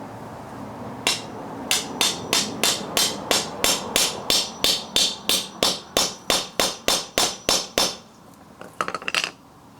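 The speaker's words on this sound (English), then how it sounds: "I'll basically hit what's left of the stud with a hammer" A hammer strikes a wheel stud on a 1965 Chevy C10 truck bed in a steady run of about twenty sharp, ringing blows, evenly spaced, followed by a brief rattle at the end.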